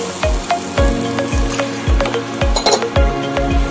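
Steady sizzling as chicken pieces are added to a hot pan with oil and ground lemongrass, with repeated low thuds and light metallic clinks in a regular rhythm.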